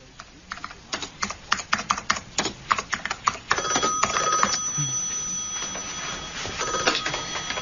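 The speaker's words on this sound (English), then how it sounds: "Peter Cousins' phone. Can I help you?" An office telephone rings in a BBC radio crime thriller set in and around Oxford, with brisk typewriter or keyboard clatter first, then a sustained electronic ringing tone taking over midway and continuing under the typing.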